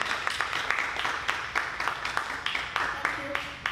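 Scattered clapping from a small group with a few cheers, fairly close, rising and fading in ragged bursts.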